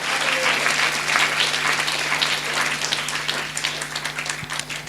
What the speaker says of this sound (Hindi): ताली बजाकर स्तुति करेंगे।